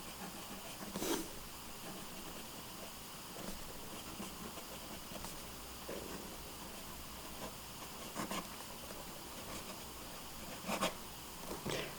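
A fine-nibbed fountain pen filled with Platinum Black ink scratches across Clairefontaine paper, faint intermittent strokes and soft taps over a low steady background hiss.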